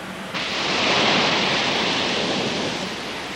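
Broadband rushing water noise from waves made by a computer-driven wave maker in a test tank, simulating seas from a 30-knot wind, swells in and holds steady and loud throughout, with no speech.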